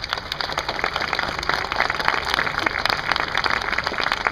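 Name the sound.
applause at a military deployment ceremony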